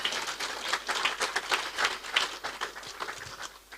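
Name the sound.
applause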